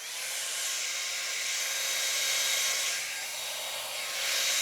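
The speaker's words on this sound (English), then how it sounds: "you're going to hear my blow dryer here" A hair dryer blows steadily with a loud, broad whooshing hiss, rising and dipping slightly in strength as it moves.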